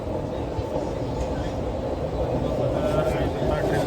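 Steady, loud rumble and roar of a train in motion, a continuous broadband drone heard from inside a carriage with no pauses or distinct events.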